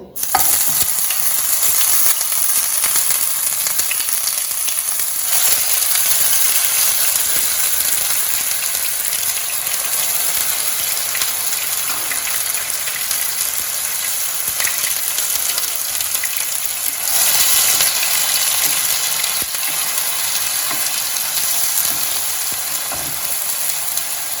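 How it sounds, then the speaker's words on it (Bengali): Onion paste frying in hot oil with whole garam masala of cardamom, cloves and cinnamon, a steady close sizzle with stirring that continues unbroken, no talking. "এখন পেঁয়াজ বাটাটা অ্যাড করব।"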